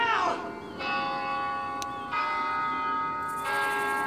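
In Left 4 Dead, a bell rings with sustained metallic tones, struck a few times in sequence with each strike ringing on over faint background noise.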